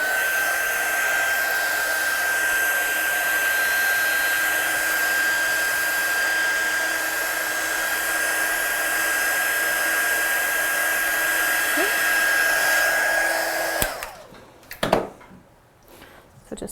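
A hair dryer blows steadily and loudly at close range for about fourteen seconds, drying a freshly stamped card, then cuts off, leaving brief handling noises.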